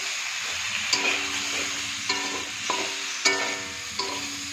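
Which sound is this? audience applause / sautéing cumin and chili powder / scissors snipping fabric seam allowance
sautéing cumin and chili powder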